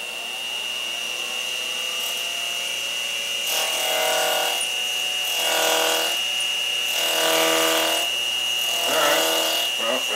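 A machine cuts into metal while making a DIY AR insert holder: a steady high whine runs throughout, with louder grinding bursts of cutting at intervals, close and prominent.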